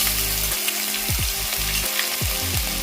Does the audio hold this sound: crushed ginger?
yes